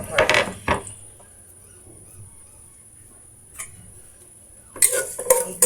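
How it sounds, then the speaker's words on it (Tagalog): Ginger sizzles in oil in a pan for arroz caldo, with loud clattering strikes of a metal utensil against the pan in bursts at the start and end and a faint steady hiss between. "Igisa natin ang ating luya."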